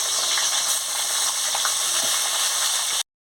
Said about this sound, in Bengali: তেল গরম হয়ে গেছে, আমি মাছটা দিয়ে দিচ্ছি।